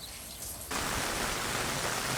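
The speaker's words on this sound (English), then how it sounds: "Right, so torrential rain in Fuerteventura." Torrential rain pouring down in Fuerteventura, a dense steady hiss that jumps abruptly louder after the first moment and then holds as a constant close roar of heavy downpour.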